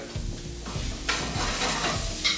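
Finely chopped onions sauté in a pan, with repeated scraping stirs over a steady close sizzle and no voices.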